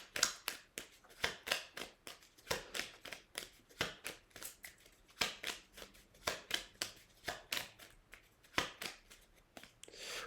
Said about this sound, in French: Oui, j'ai bien remélanger le jeu.